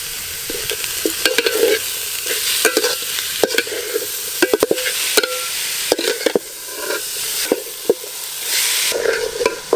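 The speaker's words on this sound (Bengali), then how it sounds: "সবজির সঙ্গে চিকেনের পিসগুলো হালকা করে একটু করে ভেজে নিয়েছি।" Chicken pieces and vegetables fry in a pan for chicken soup, a close sizzle broken by frequent sharp spatula scrapes and knocks against the pan.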